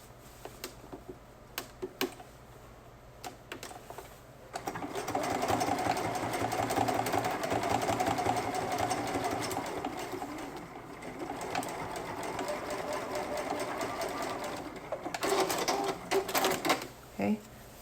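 A sewing machine stitches through an elastic waistband seam on a skirt. After a few quiet clicks it runs steadily for about ten seconds with a close, even mechanical whir, then stops into scattered clicks.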